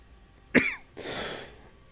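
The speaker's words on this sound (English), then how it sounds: "Should not cough right into my mic." A single sharp cough lands close on the mic, followed by a rougher breathy throat-clearing rasp about half a second later.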